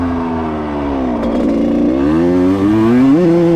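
A 1995 Suzuki RM125 two-stroke dirt bike engine revs up and down, loud and close, rising in pitch toward the end.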